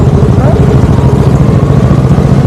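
A Kawasaki Ninja 300 motorcycle engine hums low and steady while riding on a road trip toward Munnar, a close continuous rumble with slight wavering.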